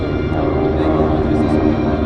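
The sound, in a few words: radial piston engines of Douglas DC-3 and Beechcraft 18 aircraft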